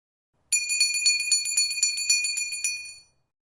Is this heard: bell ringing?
yes